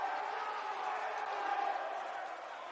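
The Cumberland bench cheering at a basketball game, a steady wash of crowd voices at moderate distance, under a commentator's talk.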